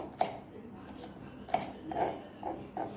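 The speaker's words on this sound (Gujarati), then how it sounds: "આવી રીતે આપણે બધા મરચાંને કટિંગ કરી લઈશું" A knife chops green chillies on a board for a jaggery chilli pickle, giving a handful of close, sharp cuts spaced unevenly, with light background noise between them.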